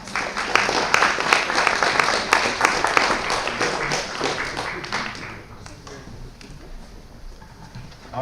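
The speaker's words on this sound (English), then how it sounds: "Let's give them one more big round of applause." Audience applause at a monthly organizational meeting, a dense crowd clapping strongly and evenly for several seconds before thinning out and fading toward the end.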